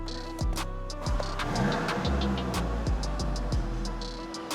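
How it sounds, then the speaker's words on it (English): A 2022 Audi RS3 saloon engine with sports exhaust cranks with rhythmic ticking bursts, then catches and settles into a steady, throaty idle; fairly loud and close, no talking. "we're going to start it and see what it sounds like"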